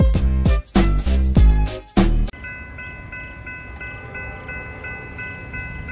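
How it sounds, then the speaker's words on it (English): A westbound Norfolk Southern intermodal train led by a Penn Central heritage locomotive passes at night in Homestead, Pennsylvania. Several loud, close horn blasts come first, then a steady rolling rumble with ringing tones as the cars go by. "we got ourselves a westbound here at Homestead, Pennsylvania. This should be a special train."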